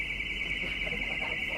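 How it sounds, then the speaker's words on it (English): An electronic alarm in a Waterstones bookshop sounds a steady, piercing high-pitched tone without a break, with a faint voice murmuring underneath. "apologies for the alarms. Frequent problem these days."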